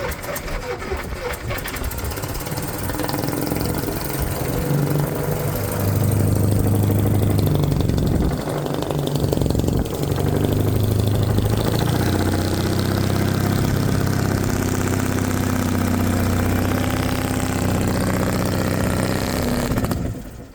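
A 1956 Caterpillar D9 bulldozer engine runs with a steady, loud low rumble and some rough, uneven stretches while the carburetor is not getting fuel, with faint talk in places.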